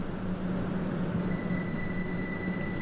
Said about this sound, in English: That train is now on its way to Hastings